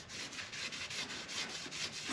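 Hand sanding on the sheet-metal body of a dune buggy being prepped for paint, a steady rasping scrape repeated in quick even strokes, close and continuous with no talk.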